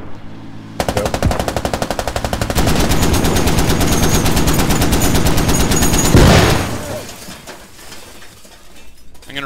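Rapid machine gun fire from a HMMWV-mounted weapon in a video game, a loud sustained burst of dense repeating shots lasting several seconds before cutting off, with some faint game ambience after.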